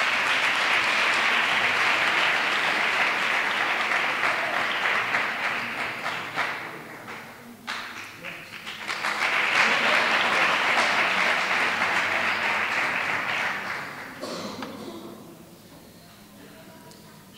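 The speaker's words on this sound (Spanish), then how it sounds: "Un fuerte aplauso para ellos." An audience gives sustained applause at a Three Kings coronation ceremony in Maribáñez, dipping briefly midway, swelling again, then thinning to a fainter patter near the end.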